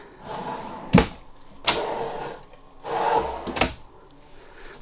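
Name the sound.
drawer opening in an RV kitchen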